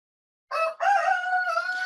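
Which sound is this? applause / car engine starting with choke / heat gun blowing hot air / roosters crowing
roosters crowing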